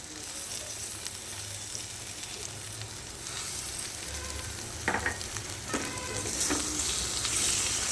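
Fried potatoes and soaked raisins tossed with spices in a hot pan, a steady close sizzle with a few sharper scraping strokes of the spatula near the end.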